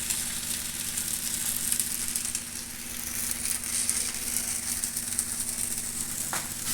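Oil sizzles on a hot griddle while jowar-flour vegetable thalipeeth cooks, a steady close crackling hiss with light scraping, no voices.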